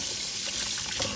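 A faucet pours water into a pot of rice being rinsed, a short, steady splashing gush heard close and alone.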